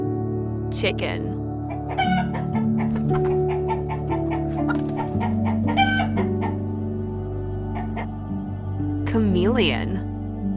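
Chickens cluck in quick, choppy runs and a rooster crows near the end, loud and close over continuous background music, with a voice present.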